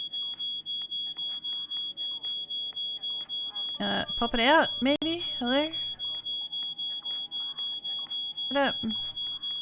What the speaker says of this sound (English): We need to do something about that alarm.